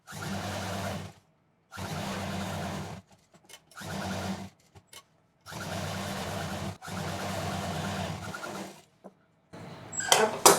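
An electric sewing machine stitches a shoulder bag made from denim jeans, running in several steady humming bursts of one to two seconds separated by short pauses, close and alone.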